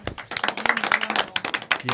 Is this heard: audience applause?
yes